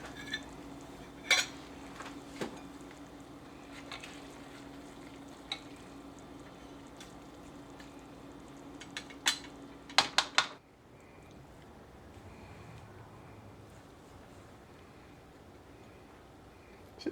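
Jambalaya is ladled from a cast iron pot into bowls, with a few sharp metallic clinks and scrapes of the utensil against the pot in a quiet kitchen, then a softer stretch of low background hiss.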